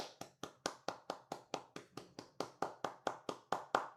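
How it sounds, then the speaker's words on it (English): A quick run of about eighteen soft, evenly spaced hand claps in a golf clap, light and quiet, with no talk. "I'm totally golf clapping."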